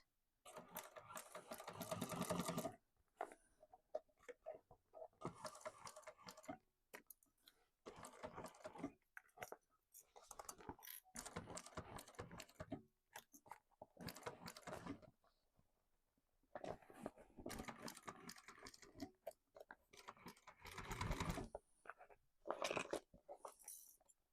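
A sewing machine stitches an Isabella tote in repeated bursts of varying length, close and fairly loud, separated by short pauses.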